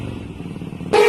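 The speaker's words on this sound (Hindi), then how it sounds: "तीसरे गेयर में उठाइए गाड़ी" A motorcycle engine runs at a low throaty idle, then surges loudly into a sharp rev as the bike pulls away, close by with no talking.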